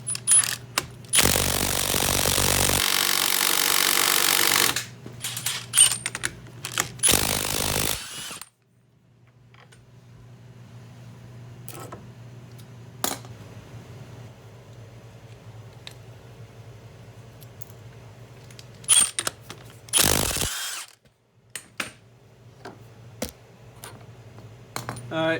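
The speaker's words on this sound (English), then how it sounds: "this is a 27mm nut. I'm going to use my impact wrench" Bursts of an impact wrench hammering loose a 27mm axle nut on a 2001 Honda 250EX ATV, loud rattling runs at the start and again briefly later, with quieter clinks of tools and parts between them.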